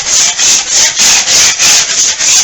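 Compound knife scraping across dried drywall compound on a repaired drywall patch, a loud rhythmic series of about eight short back-and-forth strokes, close up with no voices.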